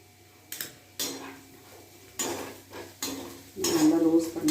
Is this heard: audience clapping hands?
no